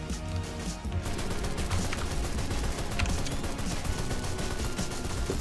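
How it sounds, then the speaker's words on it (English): .50 cal machine gun in the World War I era game Men of War: Assault Squad 2, firing sustained rapid bursts amid dense battle gunfire and crashes, loud and continuous throughout. "And 50 cal is tearing them up from that direction."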